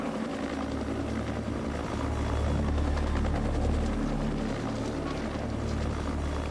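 A waiting helicopter at a remote Antarctic fossil quarry gives off a steady, loud rotor and turbine drone with rhythmic blade chop, holding constant throughout with no voices.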